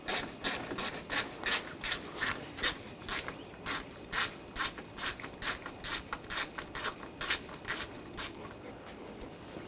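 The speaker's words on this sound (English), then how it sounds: "Using a 10mm socket, we're going to take these bolts out." A hand ratchet with a 10mm socket clicks in quick, regular bursts as radiator bolts come out of a Buick Encore 1.4L, each pull giving a close, crisp run of pawl clicks with short pauses between strokes.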